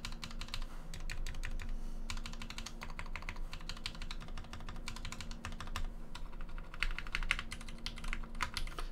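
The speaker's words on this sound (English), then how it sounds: "you can hear the difference between the heavier keys and the non-heavy keys" Fast typing on a Cypher mechanical keyboard fitted with Tangerine switches and a PC plate, a dense run of close, crisp clacks with brief gaps and a busier burst near the end.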